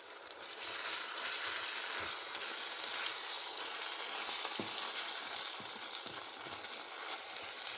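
Deer meat fries in a pan with tomato paste for chili, a steady close sizzle with occasional stirring scrapes and light pops.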